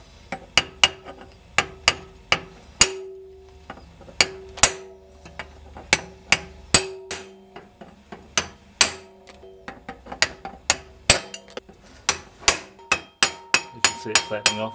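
A hammer peens over the pins of a motorcycle drive chain link to hold the side plate on, giving rapid sharp metallic taps, roughly thirty close strikes in uneven bursts, with no talking.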